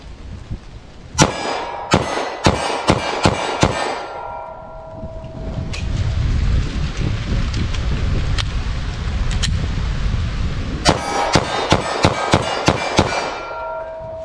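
A .45 ACP snub-nose revolver fires two close, loud volleys of about six shots each in quick succession, sharp cracks separated by a quieter stretch of background rumble.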